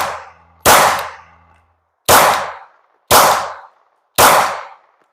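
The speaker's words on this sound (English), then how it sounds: "We'll finish that last mag off and see how this goes." Four sharp, loud pistol shots from a Glock 19 fitted with a Leo Precision Oden slide, spaced about a second apart, each with a short ringing decay outdoors, no talking.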